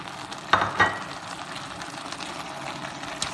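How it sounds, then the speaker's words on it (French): Mushroom and tomato sauce bubbling in a pan, a low steady sizzle with two brief sharp clinks early on, close and otherwise even, no one talking. "Après, on va encore laisser mijoter."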